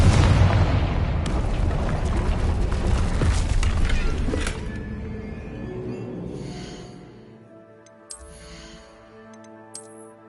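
A Confringo blasting spell erupting in the Hogwarts Legacy video game: a loud, broad fiery blast roars and rumbles for several seconds, then decays into ringing magical tones and faint shimmering effects.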